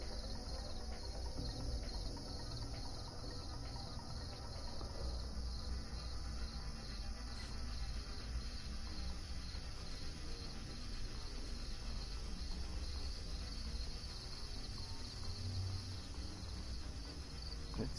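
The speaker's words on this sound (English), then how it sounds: "crickets are so fucking loud" Crickets chirping loudly and without pause outside after rain, a constant shrill trill filling the whole stretch, steady in level with a faint low rumble beneath.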